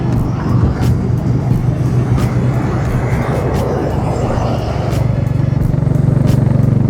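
A Honda CB350RS motorcycle being ridden gives off a loud, continuous engine drone mixed with rushing wind, holding steady and swelling slightly toward the end.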